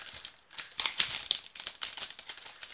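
Crisp, continuous crinkling and rustling of a Pokémon booster pack's foil wrapper being worked open by hand, close and fairly loud, with a few brief sharper tearing bursts.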